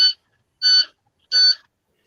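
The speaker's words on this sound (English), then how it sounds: "I don't like hearing that beeping" Three sharp electronic beeps sound at an even pace, each short and shrill, separated by silence.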